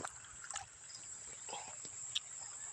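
Soft water trickling and dribbling onto soil around tomato plants, faint and close, with a few small splashes and no voices.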